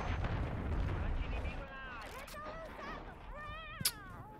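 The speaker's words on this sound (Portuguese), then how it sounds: "Granada de compulsão." A concussion grenade explodes in Call of Duty: Modern Warfare III. A loud, rumbling blast fills the first moments and then fades, followed by voices talking over a quieter background with a sharp pop near the end.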